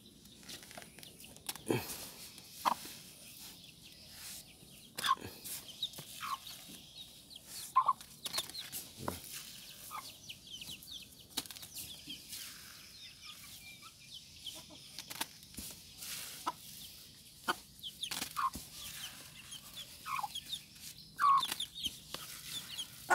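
Chickens being fed fermented palm oil waste cluck and cackle intermittently at close range, soft scattered calls with occasional scratching and pecking sounds, no talking.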